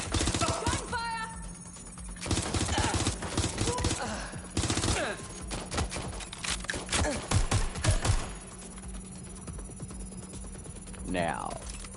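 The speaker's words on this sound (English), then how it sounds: "Gunfire!" Gunfire in Watch Dogs Legion crackles in dense rapid bursts and scattered single shots, loud and close, with short pauses and a voice speaking over parts of it.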